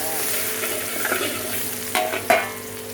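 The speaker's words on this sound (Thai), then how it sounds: "อันดับแรกเราก็เจียวกระเทียมก่อนนะคะ" Garlic frying in hot oil in a home kitchen, a steady close sizzle running throughout with a couple of brief scraping stirs near the end.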